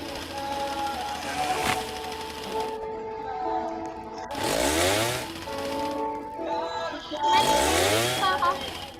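A chainsaw engine revs in bursts, roaring up loudly three times with idling drone between, over a steady mechanical background with some voices.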